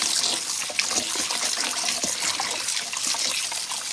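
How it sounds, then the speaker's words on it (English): Running tap water splashes steadily over shrimp in a sink, a continuous close hiss with small bursts of splashing as they are rinsed. "I'm just gonna rinse them with water."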